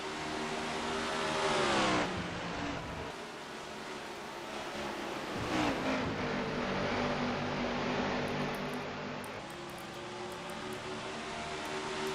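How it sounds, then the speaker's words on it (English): Race cars roar off the start in NASCAR Racing 2003 at Dover, a dense, steady wall of engine drone with rising revs near the start and occasional passing swells throughout. "We're going green, Spotty. Here we go"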